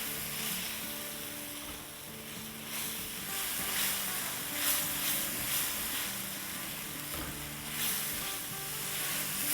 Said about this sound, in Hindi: और अब मसाले को अच्छे से भूनेंगे